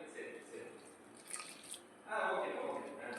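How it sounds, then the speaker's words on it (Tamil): Water is poured into a bowl of ready-made bajji batter flour, a soft trickling splash that swells louder near the end. "இப்போ இதுக்கு தேவையான தண்ணி ஊற்றிடலாம்."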